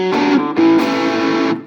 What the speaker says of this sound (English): So very good quality distortion inside here.